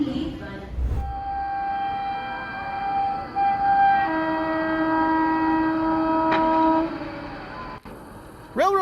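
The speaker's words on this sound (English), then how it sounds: "A train carrying tractors. That's horsepower hauling horsepower." Freight train hauling tractors on flatcars, its horn sounding long sustained chords over the rumble of passing cars, with a brief sharp clank and a final horn blast near the end.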